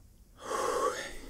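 A single breathy exhale, a soft airy rush of breath that swells and fades over about a second, heard alone and close.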